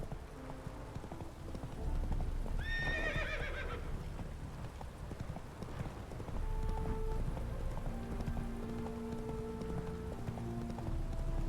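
Horse's clip-clop hooves and a whinny from the horse Roach in The Witcher 3 video game, with a bright neigh early on and steady hoof clatter continuing under game music throughout.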